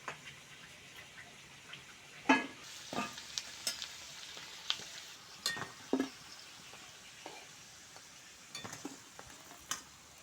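Khasta potato kachori fry in oil with a soft, low sizzle, broken by a series of sharp clinks and scrapes from a utensil against the pan at irregular intervals.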